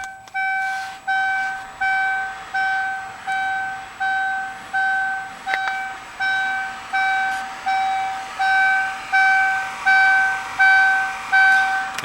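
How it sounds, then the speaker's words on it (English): Regular beeps from a car with its door open repeat about every second over a faint steady cooling seat cushion fan hum, with a couple of soft clicks mixed in. "you can just hear the sound of the fan, well, and the beeping because I have the door open"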